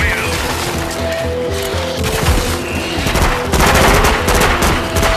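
Rapid bursts of gunfire in the zombie VR game After the Fall crackle continuously, loud and dense, with booming hits layered in and heavier firing toward the end.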